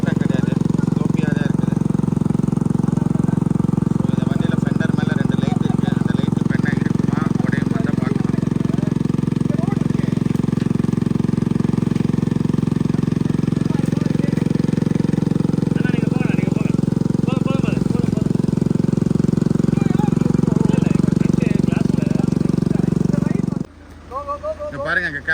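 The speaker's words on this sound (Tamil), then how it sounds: "இந்த வண்டி எப்படி ஆஃப் ரோடிங்கில் போயிட்டு இருக்குது" Mahindra Thar SUV engine droning steadily as it climbs a sloping off-road track, a loud continuous low rumble that cuts off abruptly near the end, with faint voices in the background.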